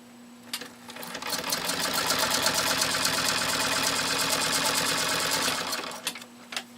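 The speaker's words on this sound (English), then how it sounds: "can you believe how quiet this machine runs?" A 1924 Singer 128-3 sewing machine stitching through six layers of commercial-grade vinyl binding, a steady, fast mechanical chatter of needle strokes running for about five seconds, close and clear, with a few isolated clicks before and after.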